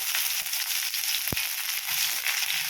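Whole spices, bay leaves, cumin and dried chillies sizzle steadily in hot oil for a Bengali curry, with a continuous close frying hiss and one sharp pop midway.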